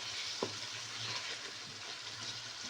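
Chicken sizzles steadily in hot oil as chilli, salt and turmeric are stirred through, a continuous close frying hiss with a scrape of the spoon near the start and no voices.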